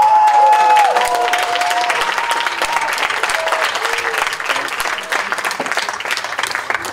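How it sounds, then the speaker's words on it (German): An audience claps steadily for several seconds, a dense patter of many hands that gradually thins; a brief tone fades out near the start. "Michu, Leute, jetzt mal einen Applaus, bitte."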